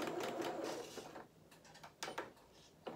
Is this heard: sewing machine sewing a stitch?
yes